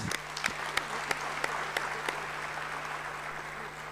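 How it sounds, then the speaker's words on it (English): Applause rises from the audience at a University of Kigali graduation ceremony, a steady crowd clapping with a few louder nearby claps at the start, set against a low steady hum. "Another round of applause,"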